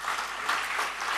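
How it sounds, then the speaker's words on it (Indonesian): Church congregation clapping together for a second or so, a steady wash of applause with no voices over it. "semua beri tepuk tangan bagi Tuhan"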